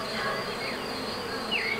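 A swarm of honeybees buzzes around a beekeeper at a first-year hive. The drone is steady and close, with a few higher whines as single bees pass near.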